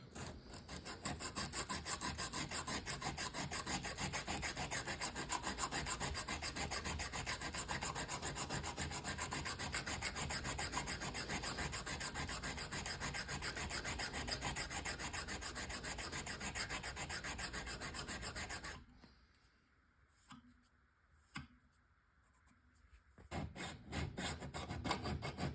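Steel knife blade surfaces are smoothed by hand, with a continuous close rasping rub that runs steadily for most of the stretch before stopping into near quiet, broken by a few faint knocks, and then resuming briefly.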